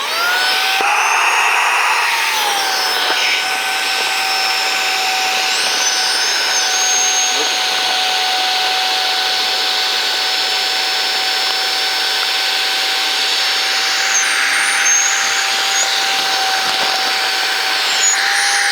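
A Saker 3-in-1 cordless vacuum cleaner runs on its low setting, putting out a loud, steady, high-pitched motor whine close by that barely changes over its full length.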